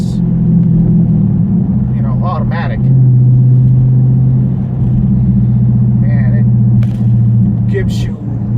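Dodge Charger Scat Pack V8 under acceleration, a loud, steady low engine rumble heard from inside the car that swells in the middle and holds, with a voice talking over it at times.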